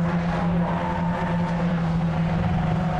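Renault Clio race cars roar around Donington Park circuit during a 750 Motor Club race, a loud continuous engine drone with a steady pitch, close and unbroken, with no talk over it.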